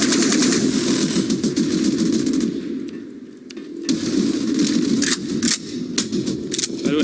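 Gunfire in the video game Dust 514, with rapid automatic bursts of shots, a brief lull midway, then renewed sharp cracks and single shots, fairly loud over a background game din.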